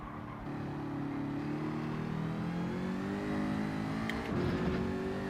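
A race car engine in Gran Turismo 7 on the Nürburgring 24h layout revs up steadily under throttle, its rising buzzing tone held for several seconds, then briefly dips and climbs again.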